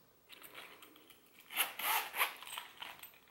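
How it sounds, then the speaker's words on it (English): Smooth metal zipper on a four-year-old Louis Vuitton Zippy wallet being drawn along its track, giving a soft, close, scratchy rasp in a few short strokes, quiet and alone. "The zipper is very smooth on this one."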